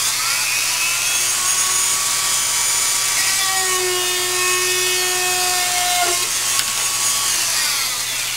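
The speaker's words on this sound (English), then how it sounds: "put a 5/64 bit in the Dremel, and we're going to use that to drill right through the shaft" A Dremel rotary tool with a 5/64 bit drills through a propeller shaft on a cart build, giving a steady high whine with a shifting pitch, close and continuous, with no talk.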